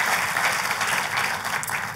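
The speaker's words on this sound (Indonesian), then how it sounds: "Ayo buat Tuhan kita kasih tepuk tangan yang paling meriah." Church congregation giving lively applause during a worship service, a thick continuous patter of many hands clapping, fairly loud and even throughout the short burst.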